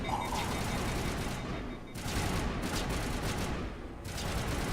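Bursts of rapid gunfire in Mass Effect 1, dense crackling volleys that are loud and continuous, briefly dropping off twice before resuming.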